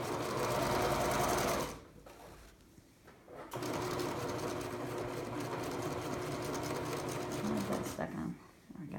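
A sewing machine stitches fabric for a photo pillow, running in close, loud whirring bursts with a brief pause partway through before resuming steadily, while a person talks softly over it.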